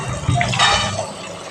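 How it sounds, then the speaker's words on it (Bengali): Mushrooms being rinsed in water, with short splashing and sloshing bursts nearby, brief and moderately loud. "ফল ছাতাগুলো আমি এবার ধুয়ে নেব"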